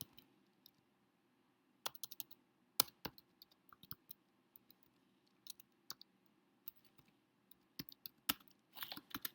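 Faint, irregular typing on a keyboard, sparse key clicks with a quiet steady hum underneath and a brief flurry near the end.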